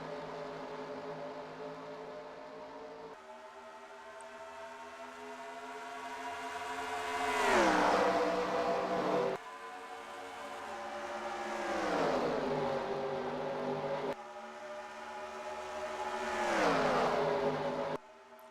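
Race car engines in a racing video game at Auto Club Speedway drone and rise in pitch, then sweep past in repeated waves of revving, faint and steady with no talk.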